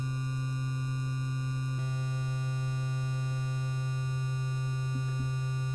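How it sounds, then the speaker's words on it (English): A System 55 modular synthesizer drones a steady stepped triangle wave shaped by its sequencer, holding one pitch with a slight timbre shift partway through, continuous and moderately quiet with no voices. "Now let's create a triangle."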